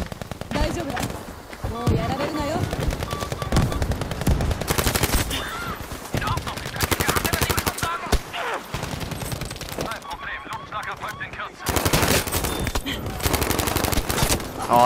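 Rapid gunfire in the shooter Battlefield 5, including a ZK-383 submachine gun, loud continuous bursts with short pauses across the span, close and dominant, with a voice faintly underneath.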